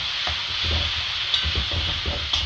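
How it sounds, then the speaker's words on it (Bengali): Chili powder being stirred into spices in a hot pan gives a steady fry hiss with a series of soft scraping, stirring strokes, close and alone. "লঙ্কা গুঁড়ো দিয়ে দেবো দিয়ে ভালো করে নাড়িয়ে নেব"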